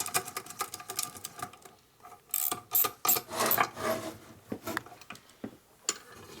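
A hand wrench ratchets while torquing bolts on a 1983 Harley FXRT 80ci Shovelhead top end, making close, uneven bursts of clicking ratchet strokes with brief pauses between pulls.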